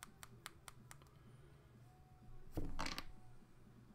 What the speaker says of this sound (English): I'm going to shuffle just to be safe.